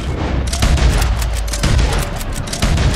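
Carcano rifle shots fired during a Red Dead Online match, a rapid run of loud, close cracks and booms layered with more distant gunfire in a dense, continuous barrage with no talking.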